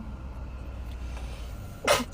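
One sharp, close sneeze bursts out near the end during an allergy attack inside a car, over a constant low cabin rumble.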